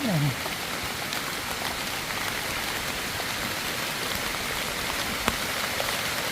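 Steady rain pours down outdoors during wild mushroom foraging along a roadside, a dense, even hiss of drops on surfaces that holds throughout, with no voices.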